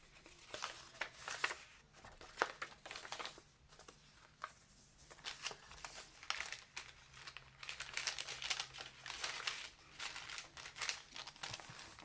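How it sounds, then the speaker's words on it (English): Extra paper sheets are handled inside a handmade vintage-style junk journal, producing soft crinkling, rustling and crumpling in irregular bursts, close and fairly quiet. "There's some extra paper in here."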